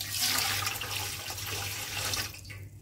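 About a liter of water is poured into a cooking pot for making grape wine, giving a steady splashing, gurgling rush that runs close by and fades toward the end.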